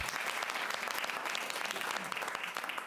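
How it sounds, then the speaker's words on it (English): A council meeting audience applauds the city's new fire chief, a dense, even patter of many hands heard at a moderate distance, continuous for the whole stretch. "I think that's worthy of some applause"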